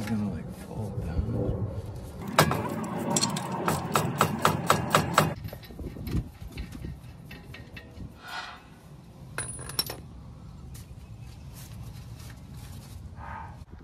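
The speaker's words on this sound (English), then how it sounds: "you just gotta bang on it with the hammer very hard after loosening it up and it will free" A hammer strikes a suspension bolt on a Dodge Ram in a quick series of about a dozen sharp metallic bangs, followed by quieter clinks and handling with someone talking.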